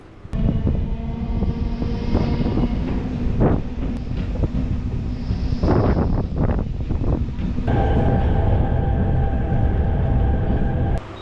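A MEMU passenger train between Tiruvannamalai and Chennai Beach rolls loudly and steadily from up close as it stops at Polur station, with wind buffeting the microphone and a few metallic clanks along the way.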